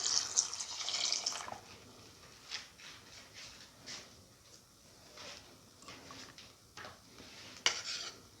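Quiet scraping and clinking of a utensil stirring in a pot, irregular strokes after a brief burst of hiss at the start.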